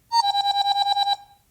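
Apple iPhone 'Electronic' ringtone, a bright synthetic tone pulsing in a quick, even run of about ten beeps that stops abruptly, played alone and close.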